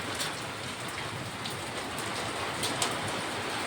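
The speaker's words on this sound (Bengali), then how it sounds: "বৃষ্টিও কম হলো, আর তার সঙ্গে এই যে শিল পড়ছে, কখনো কমছে কখনো বেশি হচ্ছে।" Hail and steady rain fall together in a heavy, continuous downpour, a dense close wash of drops with scattered sharper pellet strikes, waxing and waning slightly, with no voices.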